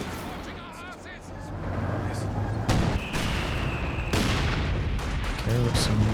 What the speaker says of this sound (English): Okay, we've got some mortar, double mortars from Flap